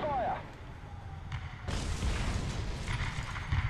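Artillery strike in the War Thunder tank game: a sudden heavy broadband blast lands mid-clip, followed by sustained rumbling explosion noise over low engine drone, with a voice heard early on.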